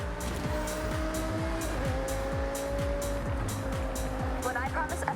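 Audi R8 V10 supercar in Forza Horizon 6, engine droning steadily and loud throughout with rhythmic gear-shift dips, a brief tire squeal near the end and continuous background music.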